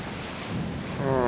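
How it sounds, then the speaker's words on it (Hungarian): Steady rain hisses across the grounds of a gloomy estate in Clive Barker's Undying, a dense broadband wash that swells slightly toward the end with a faint low rumble beneath. "úgy látszik, hogy a birtokon még mindig esik az eső"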